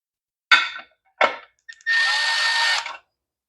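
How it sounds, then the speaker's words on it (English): A nut driver clicks and whirs in short bursts while tightening nuts back on, two brief hits followed by a steadier whir of about a second, close and isolated. "we're going to switch off to the nut driver to put them back on"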